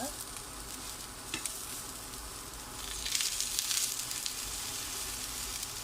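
Eggplant slices frying in a pan with a little oil, a steady close sizzle with occasional stirring scrapes and a brief louder burst midway.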